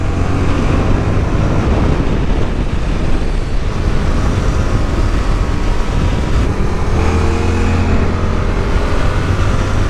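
A Yamaha R7 sport motorcycle with a new slipper clutch pulls away, its engine a loud, steady broadband roar that holds close and constant throughout with no voices.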